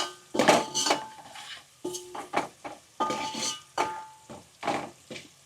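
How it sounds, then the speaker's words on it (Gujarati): A spoon scrapes and clinks against a pot while green pigeon pea kadhi is stirred, in a series of distinct, close strokes separated by brief pauses. "થોડીક વાર આવી રીતના હલાવવાનું"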